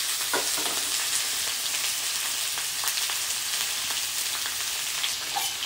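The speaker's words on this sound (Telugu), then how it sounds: "ఇప్పుడు హాఫ్ కేజీ దొండకాయ వేస్తున్నాను." Half a kilo of ivy gourd (dondakaya) frying in a pan, a steady close hiss of sizzling oil with occasional light stirring scrapes, no voices.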